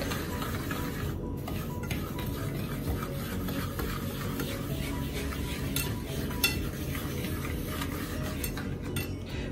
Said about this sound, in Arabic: والسكر غادي نخلطهم مزيان حتى ينسجموا مع بعضياتهم